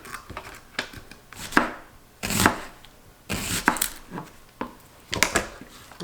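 An onion is chopped with a knife on a cutting board in a home kitchen, giving a string of crisp, close blade strikes in irregular bursts, with no talking.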